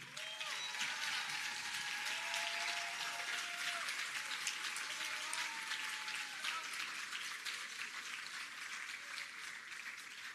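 A crowd applauds a student at a PEP scholarship awards ceremony, dense sustained clapping holding steady for the full stretch.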